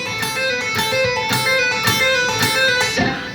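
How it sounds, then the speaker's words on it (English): Smooth, flowing electric guitar notes in a repeating neoclassical metal pedal-point pattern, played legato with soft note attacks and a sustained tone throughout. "Then you can move into legato"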